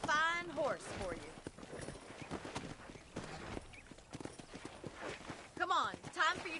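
Horse hooves clip-clop along while a horse whinnies in the Western video game Red Dead Redemption, with character dialogue running over the hoofbeats and the neighs rising near the start and end.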